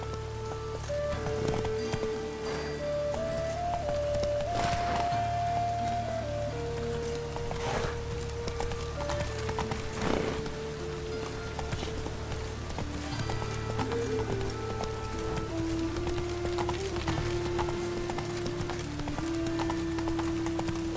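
Hoofbeats of Roach, Geralt's horse in The Witcher 3, drum in a steady clip-clop rhythm throughout, with a brief whinny and light rain in the background, over a continuous low drone of game music.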